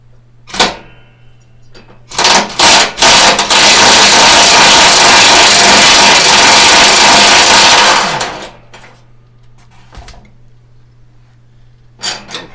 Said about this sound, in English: I am going to be using an impact, so if you're wearing earphones, you may want to take them out.